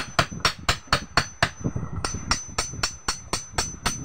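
A hammer pounds a bushing into place with steady, rapid, sharp metallic blows close by, about three strikes per second with a brief pause partway through.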